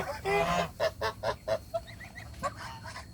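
Several geese, Chinese white, Embden and Toulouse breeds, honk loudly nearby in a burst of repeated, nasal calls, followed by softer scattered honks and chatter.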